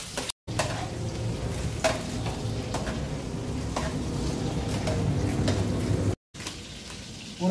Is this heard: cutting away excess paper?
no